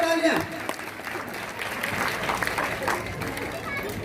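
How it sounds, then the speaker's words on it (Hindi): An audience at a school children's day and annual function applauds a student playing a leader, a rolling burst of clapping that stays fairly loud throughout, with voices speaking over it. "जोरदार तालियां नेताजी के लिए"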